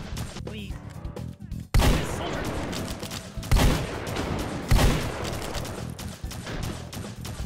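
An automated turret in the VR shooter H3VR fires at the player in repeated bursts of gunfire, with three sharp, loud volleys standing out over steady background noise.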